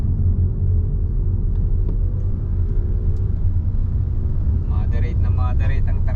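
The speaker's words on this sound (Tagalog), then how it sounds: "So ganito ang sitwasyon ng traffic namin dito" Moderate everyday road traffic in Davao del Norte: a continuous low rumble of passing vehicles and engines, with faint voices creeping in toward the end.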